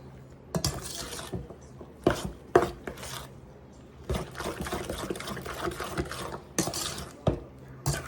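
A spoon stirs a soupy bread pudding mixture with eggs in a pan, giving soft wet scraping and sloshing strokes punctuated by occasional sharper clinks against the pan, close and fairly quiet.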